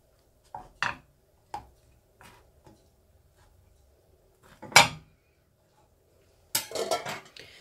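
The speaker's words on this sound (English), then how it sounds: "I will prick them on the center by the butter knife" Sparse, quiet clicks and scrapes of a metal butter knife pricking pakoras in a pan, several separate taps spread out, with a louder scraping clatter near the end.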